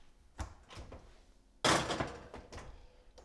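An oven door shuts in a home kitchen: a few light knocks and handling clatters, then a firmer thud of the door closing, close by and moderately loud.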